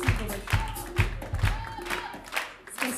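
Concert audience clapping in a steady rhythm of sharp hand claps, fairly close and continuous, with a little cheering mixed in.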